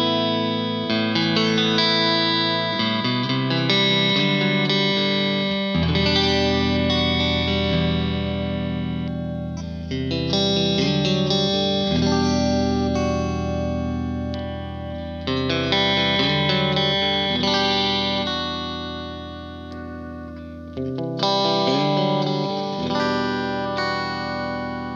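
Sterling by Music Man Cutlass CT50 HSS electric guitar played through Laney and Blackstar amps with a Vintage 30 speaker cabinet, heavily distorted chords and riffs ringing loud and sustained with short pauses between phrases.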